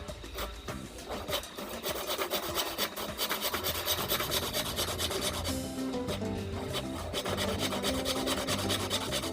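Close, continuous back-and-forth strokes of a handsaw cutting through construction-grade formwork wood, rhythmic and steady throughout.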